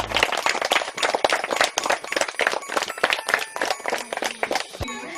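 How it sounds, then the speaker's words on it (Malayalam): A crowd at a children's dance school Christmas celebration breaks into lively applause, dense overlapping claps running steadily for about five seconds before a brief fade. "ക്ലാപ്പ് ചെയ്തേ."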